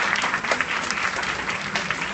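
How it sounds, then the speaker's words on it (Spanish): Steady, fairly loud audience applause fills a round-table event with national leaders, an even patter of many hands clapping throughout with no pause. "Un aplauso a todos"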